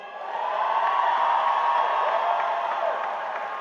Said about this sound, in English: give yourselves an applause